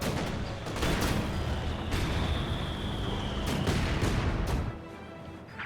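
Mortar half-tracks firing in Company of Heroes 2, a series of sharp booming shots at irregular intervals over a steady battlefield din, loud and fairly close, with no talking.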